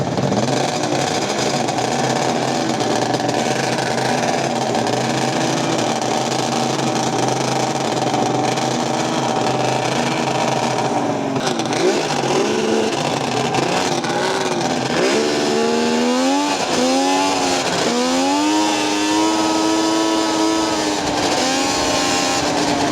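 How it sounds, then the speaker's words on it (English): A small two-stroke engine on a big-block race lawn mower idling loudly and steadily, then revving up and down several times in quick bursts near the end. "Let's warm this engine a little bit."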